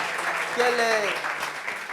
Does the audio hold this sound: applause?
yes